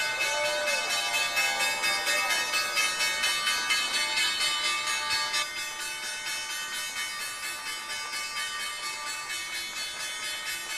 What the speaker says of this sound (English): You just heard data company Snowflake ring the opening bell.